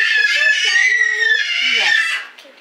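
A young child screams at home, a loud, sustained, piercing cry lasting a couple of seconds before trailing off, close by and alone.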